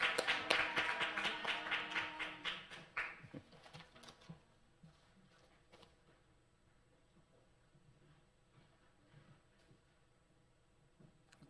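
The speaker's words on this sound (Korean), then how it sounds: "하나님께 박수 한번 올려드리겠습니다" A church congregation at Sunday worship claps together in a quick, steady rhythm for a few seconds, then the applause stops and scattered quiet taps and room noise remain.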